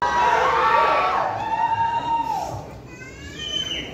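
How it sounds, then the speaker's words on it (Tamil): A crowd at a Tamil movie pre-release event cheers and shouts loudly, with a spread of high excited voices and whistle-like cries that fade slightly, then swell again. "ஸோ பெரிய பெரிய கைத்தட்டலோட எல்லாருக்கும் ரொம்ப ரொம்ப பிடித்த டார்லிங் விஜய் சித்து அவர்களை நாங்கள் கலைக்கிறோம"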